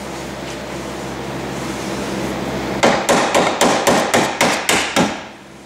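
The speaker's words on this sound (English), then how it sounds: "I'm going to drive the pin downwards to separate the two using the trusty hammer." A hammer strikes a steel pin to drive it out of a Honda Odyssey sliding door hinge, nine sharp ringing metallic blows in a steady rhythm, close and loud over a low background hum.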